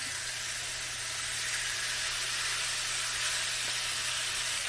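Loco moco patties with green onion and garlic sizzling in a pan, an even, close frying hiss that runs steadily without pause over a low background hum, with no voices.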